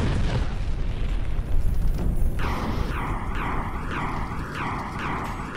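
A Russian anti-ship missile, designed against aircraft carriers, strikes in Ukraine with a loud, rumbling blast. A low roar follows, then a pulsing, wavering whine over the continuing rumble.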